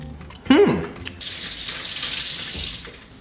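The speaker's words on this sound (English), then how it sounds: "Mid-meal shower." Shower water sprays steadily after a sharp squeak of the tap handle turning on, a continuous hissing rush of running water, close and fairly loud, with no voices.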